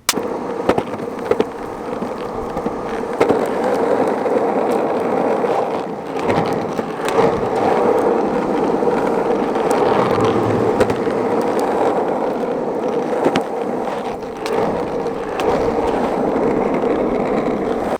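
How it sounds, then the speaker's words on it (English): Continuous rough rolling rumble of Landyachtz Dinghy Turbo skateboard wheels over a coarse surface, steady and fairly loud throughout, with occasional small bumps and no voices. "the sound the wheels make on rough surface"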